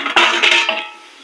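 Steel plates clattering and clinking as they are handled, a few sharp metallic knocks with ringing overtones over about a second, close and loud, with no talk.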